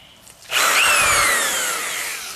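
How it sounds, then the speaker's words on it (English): A power drill bores bearing holes for a giant robot project's wheels, starting after a quiet moment and then whining loudly and steadily, its pitch sliding down as it bites into the material. "Hand drilling it is then."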